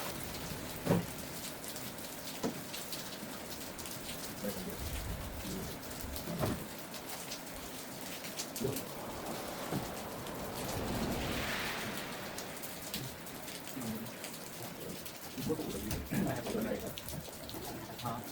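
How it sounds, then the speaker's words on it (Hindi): Steady, dense rainfall pattering on surfaces at a roadside dhaba in the Himalayan foothills, with scattered louder drops and faint background voices and birds. "फिर दोबारा बारिश हो रही है ज़बरदस्त"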